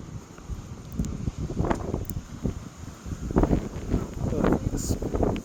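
Gusty wind at a canyon overlook buffets the microphone, low rumbling bursts rising and falling throughout with a faint rustle.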